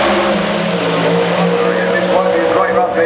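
Pro Stock drag race cars launching at Santa Pod, a loud sustained roar of engines with tire noise that rises and slowly shifts pitch as they pull away, with a commentator talking over it.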